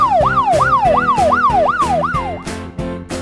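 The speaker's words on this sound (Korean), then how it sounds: "police car, 경찰차" A police car siren yelps rapidly, rising and falling loud and close about six times over a thumping rhythmic beat.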